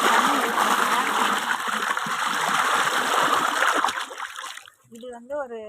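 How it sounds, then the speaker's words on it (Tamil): Water pours steadily into a large 18-litre pot, a continuous splashing rush near the mic that cuts off toward the end before a voice speaks. "இப்போ இந்த பெரிய குடத்துல ஒரு தண்ணி ஊற்றுறாங்க."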